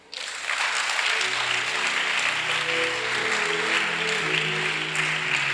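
A church congregation applauds steadily through a Sunday worship service, with dense sustained clapping and a low musical tone running underneath.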